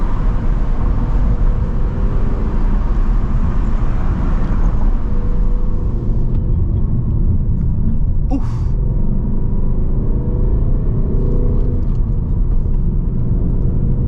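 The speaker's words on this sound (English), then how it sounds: "we about to go ahead and shut the exhaust off, and just like that, this car is dead quiet." A 2024 Ford Mustang GT with its exhaust closed, cruising through a city at night: a steady, muffled low road-and-engine rumble that stays even throughout, with a brief faint whistle midway and no talking.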